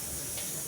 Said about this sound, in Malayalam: 4 വിസിൽ കേട്ടിട്ടുണ്ട്.